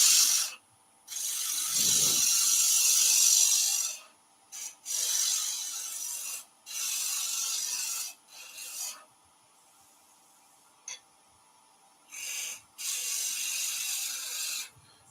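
Gouge taking a shear cut on wood spinning on a lathe, a series of bright rasping bursts a second or two long separated by near-silent gaps, close and fairly loud with no talk.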